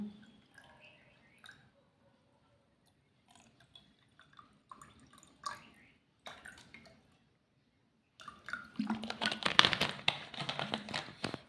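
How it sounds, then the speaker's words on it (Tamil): Cool water is added to pineapple orange juice: a few soft taps and drips come first, then a louder burst of pouring and splashing near the end, all close and fairly quiet. "கூல் வாட்டர் தான் ஃப்ரெண்ட்ஸ் ஆட் பண்ணிக்குவோம்"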